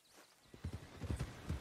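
A horse in the video game Red Dead Redemption 2 walks along, its hooves clip-clopping in a quiet, rhythmic series of soft, dull thuds that start after a brief pause and continue steadily.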